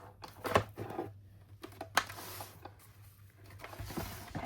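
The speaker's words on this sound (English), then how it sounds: "Run it through and die cut it." A paper-crafting die cutting machine feeds a die sandwich through its rollers, giving quiet mechanical clicks, ratcheting and small knocks at irregular intervals, close and faint.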